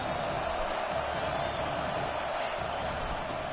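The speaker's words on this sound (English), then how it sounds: "Listen to this crowd just shaking the girders of this place, trying to help their defense." A stadium crowd roars steadily in the College Football 25 video game during a Georgia vs Tennessee matchup, a dense, sustained wash of cheering with no break.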